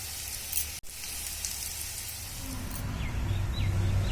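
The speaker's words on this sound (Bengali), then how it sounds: "পেঁয়াজগুলো আমি কড়াইতে দিয়ে দিচ্ছি বেরেস্তা বানানোর জন্য" A steady hiss of onions frying in oil in a wok for chicken biryani, the sizzle swelling a little louder toward the end, with no talking.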